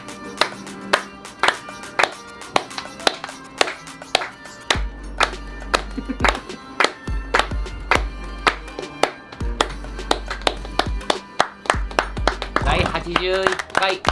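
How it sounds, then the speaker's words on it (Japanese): Rhythmic hand claps keep steady time with a brassy horse-racing fanfare before the 81st Oaks (Yushun Himba) race, with a deep bass pulse underneath and voices chatting over the music. "皆さんも手拍子。"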